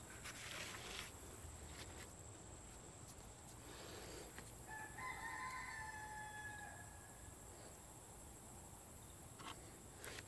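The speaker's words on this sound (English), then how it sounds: "I think the rooster's trying to tell me he's hungry." A rooster crows once in a workshop setting, a faint, drawn-out call rising and holding for about two seconds in the middle, set against a quiet background hum and a few soft clatters.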